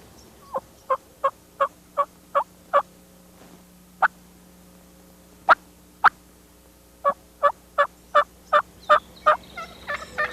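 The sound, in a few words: turkey tree call imitated on a mouth call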